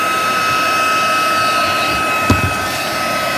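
A heat gun used for heat embossing blows hot air with a loud, steady whooshing drone and a faint whine, running continuously up close with a brief knock partway through.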